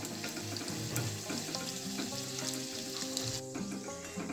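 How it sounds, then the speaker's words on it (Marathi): Rava (semolina) puri frying in hot oil, a steady, close sizzle running evenly throughout with tonal music layered over it. "तर बघा इथे ही पुरी छान अशी तळून झालेली आहे."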